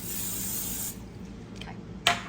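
Cooking spray hisses into a cake pan for baking red velvet cake, one steady close burst lasting about a second, followed by quiet handling and a short sharp sound near the end.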